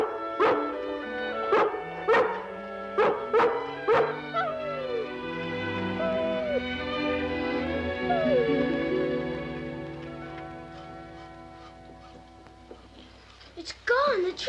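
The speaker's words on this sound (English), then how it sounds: "If you want to stay and bark at that squirrel all day," A dog barks at a squirrel in a burst of sharp, loud barks with yips and whimpers early on, followed by a stretch of background music and later a few more barks near the end.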